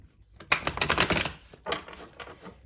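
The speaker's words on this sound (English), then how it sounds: "Okay, we'll do one last shuffle." Tarot cards riffle-shuffled in two quick bursts of dense, rapid flutters, the first longer and louder, the second shorter and softer, close and alone with no talk.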